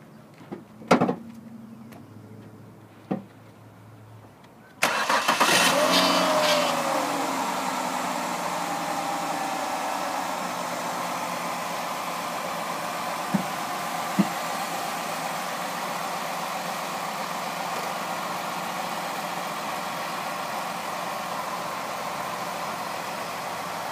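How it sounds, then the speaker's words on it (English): A few thumps and clicks, then a Ford Escape 3.0 engine cranks and catches with a brief rising whine, settling into a steady, even idle that continues to the end. "going to jump in and start this engine for us"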